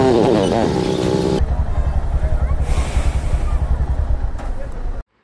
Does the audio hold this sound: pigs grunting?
no